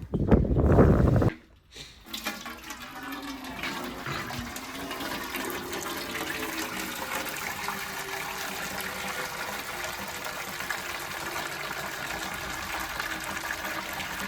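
A brief loud burst gives way to a steady, continuous stream of liquid splashing and trickling onto the ground, close by and sustained for over ten seconds.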